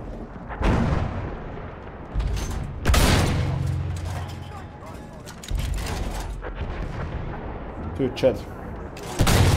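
Gunfire bursts from a video game shooter, loud blasts and rattling volleys spread across the clip, with players talking over the shots.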